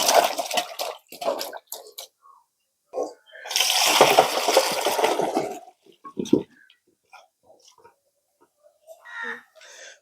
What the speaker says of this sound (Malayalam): ആദ്യം നമുക്കിതൊന്ന് കഴുകി ഒന്ന് വൃത്തിയാക്കി എടുക്കാം